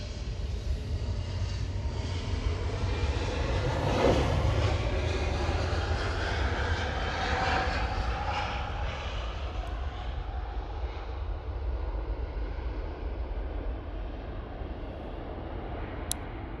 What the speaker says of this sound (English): Intersection takeoff for Lufthansa 1708.